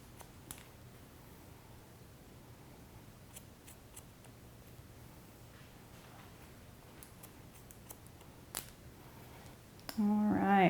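Scissors snip in scattered quiet clicks while trimming a boy's curly hair, faint and close with long gaps between cuts, then a louder burst of rustling near the end.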